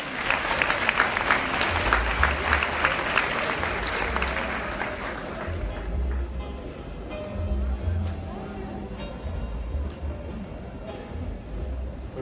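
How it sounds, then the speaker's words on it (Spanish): Loud applause from a crowd at a youth awards event in Puerto Rico fills the first few seconds, then fades into a quieter room murmur with low rumbling. "Vamos a recibir con un fuerte aplauso"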